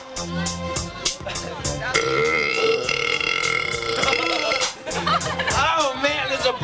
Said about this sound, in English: Oh man, this is a burping marathon.